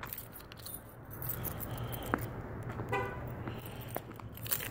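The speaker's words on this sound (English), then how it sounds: "I always beep my car a couple times because I can never remember if I beeped it or not." A Ford Mustang horn gives short beeps while being locked, with faint clicks and jangling nearby against a quiet outdoor background.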